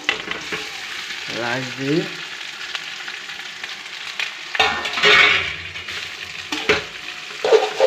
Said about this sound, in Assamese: ৰাইচটো ৰং মৰং কৰি লৰাই দিম তাৰমানে।